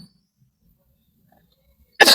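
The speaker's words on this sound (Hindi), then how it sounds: "थोड़ी खांसी हो रही है" A single short cough near the end after near silence, close and fairly loud.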